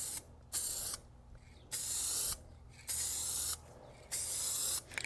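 Old Masters oil-based polyurethane top coat sprayed from a can onto antique wood furniture: four sharp hissing bursts, each lasting about a second, with short quiet pauses between them. The sound is close and steady.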